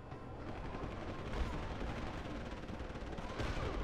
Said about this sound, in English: All I hear is lots and lots of gunfire.